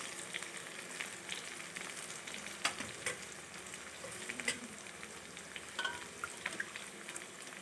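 Dal goes into a hot pan and fries with a continuous soft sizzle, broken by scraping stirs and occasional clinks of a spoon against the pan.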